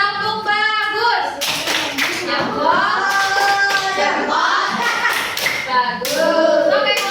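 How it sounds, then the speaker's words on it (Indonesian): Children in a primary school classroom clap their hands for a group, with scattered, uneven claps continuing under the overlapping voices of the children and their teacher. "Oke, tepuk tangan dulu untuk kelompok satu."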